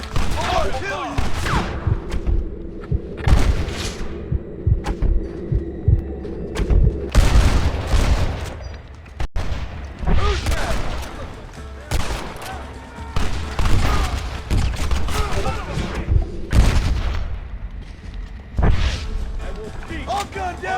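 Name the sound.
gunfire in a shootout, from Red Dead Redemption video game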